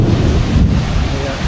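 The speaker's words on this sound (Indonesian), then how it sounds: "Ya, mulai terdengar geluduk." Thunder rumbles low and continuous during rain at a waterfall, a dense, loud wash of rain and wind noise filling the short stretch without a break.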